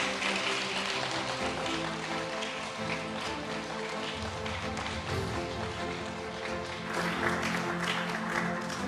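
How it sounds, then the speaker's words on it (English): Audience applause welcoming the Chief Executive as keynote speaker at a book publication ceremony, a dense, steady wash of many hands clapping throughout, loud and continuous like rain. "Please give a big round of applause to welcome Chief Executive Mr. John Lee to give us a keynote speech."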